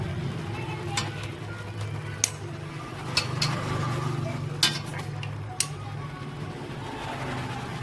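Pork being stirred and turned in a pot while cooking down for pork floss, with a steady low simmering rumble and a few sharp metallic clinks of utensil against the pot.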